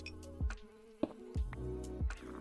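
A mosquito buzzing in a video game: a close, steady insect whine with a faint pulse, broken by four soft low thumps at regular intervals.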